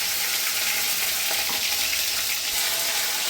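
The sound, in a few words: stirring tomato and spices frying in oil in a wok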